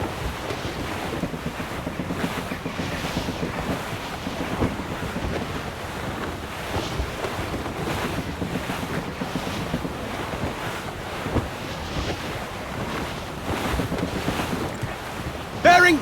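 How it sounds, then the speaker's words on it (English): A sailing ship crossing open sea in Assassin's Creed Rogue, a steady roar of wind and rushing waves against the hull, continuous and full throughout with no break. "Full sail ahead, lads!"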